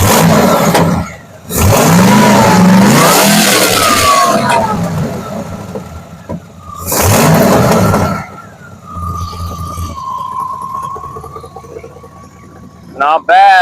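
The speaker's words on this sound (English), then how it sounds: "Definitely got an exhaust leak out of the headers and she's not happy" An old C4 Corvette engine with a leaking exhaust at the headers revs in loud bursts between quieter idling stretches, close by, with a brief sharp sputter at the end.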